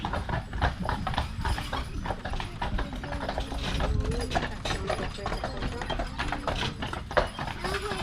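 Horses pulling a tour carriage on Mackinac Island clip-clop in a steady, continuous hoof rhythm on the road, with a faint neigh and light mechanical rattling behind it.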